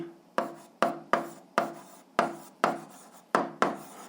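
Pen or pencil scratching across paper while writing an algebra answer, a run of quick, close strokes each starting sharply and trailing off, with no talking.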